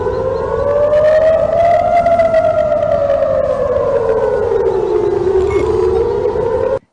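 An air raid siren wails over Tel Aviv, one loud sustained tone slowly rising and falling for several seconds before cutting off abruptly.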